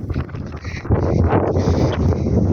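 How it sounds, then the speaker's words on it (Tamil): Strong wind blows across the microphone on a hillside trek in Ooty, a loud, steady rumbling roar with gusty surges that grow heavier after the first second, with no voices. "முடியல காற்று அப்படி அடியுது"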